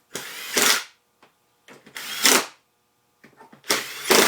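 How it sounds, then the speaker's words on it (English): A power drill drives screws back into a homemade drum sander in three short, loud bursts separated by quiet pauses, heard close up with no talk. "So then just put the screws back in."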